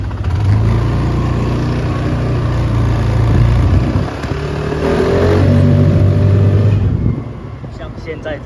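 Kymco KRV180 belt-drive motorcycle engine held at a steady drone for several seconds, then the throttle is blipped and the revs climb before cutting off near the end, loud and close.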